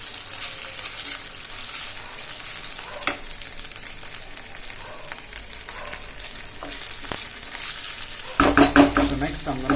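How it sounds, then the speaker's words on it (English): Onions and ginger garlic paste sizzle in a pan as they are stirred for palak paneer. A steady frying hiss runs throughout with a few scrapes, and it grows louder and busier near the end as the mix is stirred. "I'm going to put some ginger garlic paste. Okay, and give it a small mix."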